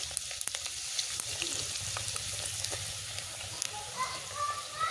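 Garlic and millet flour sizzle as they roast in a hot oil tempering for a safflower-greens dish. The frying hiss is steady and close, with sharp crackles and pops, occasional stirring scrapes and a little background voice.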